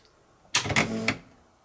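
An old dot matrix printer powering on: a brief mechanical clatter and whir, a short burst of rattling lasting under a second, then quiet.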